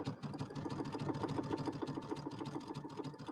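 A sewing machine stitches a pieced Easter settee pillow fabric with a zigzag stitch, its needle chattering in a fast, steady rhythm that runs close and continuous, with no talking.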